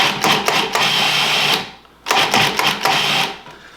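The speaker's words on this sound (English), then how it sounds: "So I'm gonna put all of my mustard seeds into my food processor." A food processor pulses mustard seeds in two short bursts, each a loud rattling whir of seeds hitting the blade and bowl, separated by a brief pause.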